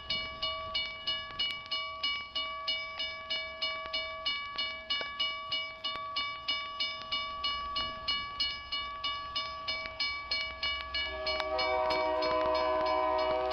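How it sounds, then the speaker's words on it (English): A K5LA train horn in Microsoft Train Simulator, with a steady multi-tone chord sounding under a regular rhythmic pulsing of the track, which shifts to a fuller, louder horn blast near the end. "My God, that K5LA."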